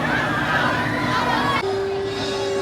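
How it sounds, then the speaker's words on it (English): Crowd of guests at Kings Dominion's Halloween Haunt scare zone, screams and shrieks rising over dense crowd noise and chatter, loud and close, with a sustained pitched tone near the end. "People screaming. The apple makes them scream."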